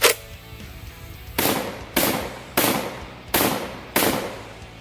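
A Tristar Compact 12 gauge bullpup shotgun fires a quick string of loud, close blasts, each sharp report ringing briefly before the next, with no talking.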